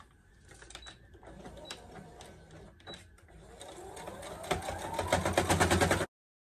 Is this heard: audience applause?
no